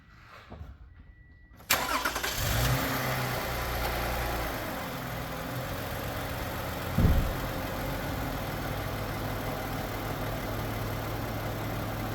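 A 2016 Toyota Sienna LE minivan's V6 engine cranks and catches after a quiet moment, then settles into a steady, smooth idle heard up close, with a brief revving bump midway.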